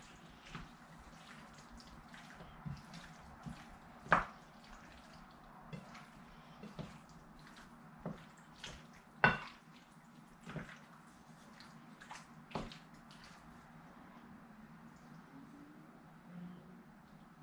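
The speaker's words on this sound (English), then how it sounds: "we're going to stir that all together" Summer squash and basil pasta is stirred together in a pot: soft intermittent clacks and wet scrapes at an irregular pace over a quiet low hum, with no one talking.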